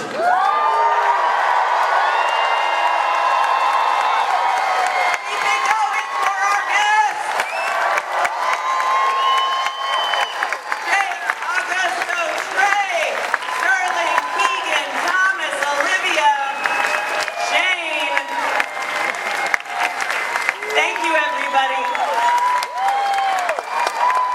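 Large convention-hall audience at a San Diego Comic-Con panel for The Predator, cheering, screaming and applauding loudly and continuously, with whoops and shouts rising throughout and voices mixed in.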